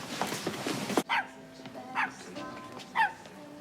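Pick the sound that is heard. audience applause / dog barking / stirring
dog barking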